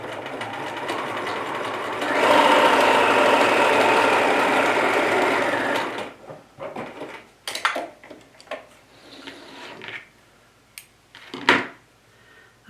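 A vintage Bernina sewing machine stitches through fabric in a steady, loud, whirring run of about four seconds, followed by quieter scattered clicks and handling noises.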